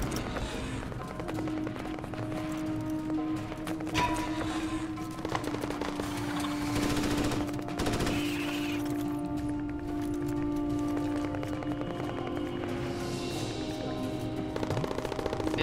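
Automatic weapons fire in the video game Starship Troopers: Extermination, rapid bursts and sustained rattling volleys over a busy battle din, with a voice talking faintly at times.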